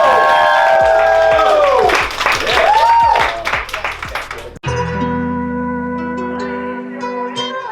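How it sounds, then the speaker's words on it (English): A live audience claps and cheers for a mastermind coach over loud music with sweeping tones; after a few seconds the crowd noise cuts off abruptly and sustained music carries on. "let's all give a warm round of applause for your mastermind coach"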